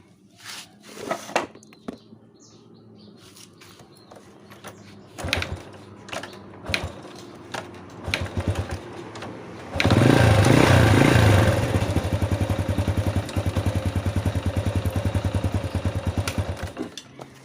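A kick-start motorcycle sputters through several irregular attempts after a clutch pressure-plate adjustment, then catches and settles into a loud, steady, close idle with rapid rhythmic firing.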